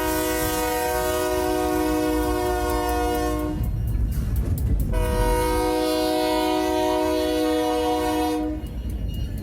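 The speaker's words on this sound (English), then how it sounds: "soon enough he was here, with an ear-shattering horn and fresh load of freight" Norfolk Southern freight train at a rail crossing in Cordele, Georgia, blasting a loud, sustained multi-tone horn in two long blasts separated by a short gap, with rumbling wheels and rail noise underneath throughout.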